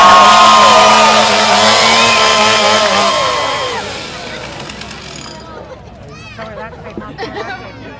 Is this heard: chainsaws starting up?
yes